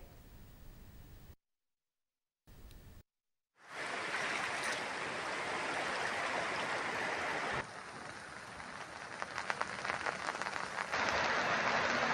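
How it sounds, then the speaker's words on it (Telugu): Floodwater from swollen streams in Telangana rushes steadily as a dense, continuous roar, briefly cut off by short silent gaps near the start and then running loud and unbroken to the end. "వేలుపెల్లి వాగు, కతర్ల వాగు, పోలీస్ స్టేషన్ సమీపంలోని బుర్కపల్లి వాగు ఉధృతంగా ప్రవహిస్తున్నాయి"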